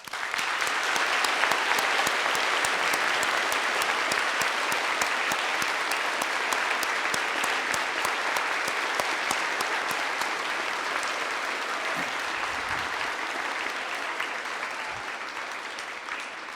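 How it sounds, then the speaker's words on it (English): Sustained applause from a school gathering at a Veterans Day ceremony honoring servicemen and women, a dense steady clapping that carries evenly through the whole stretch and tapers slightly at the end. "Please join me in showing our gratitude to their servicemen and women with a round of applause"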